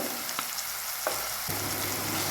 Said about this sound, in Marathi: सगळं मिक्स करून घेऊया